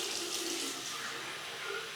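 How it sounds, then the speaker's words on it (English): Cold tap water runs steadily into a sink for a post-shave rinse, a continuous close hiss and splash with no pauses or voices. "Cold water rinse."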